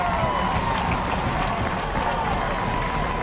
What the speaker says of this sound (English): Adam Neal firing up this Blue Hawk crowd here in Exeter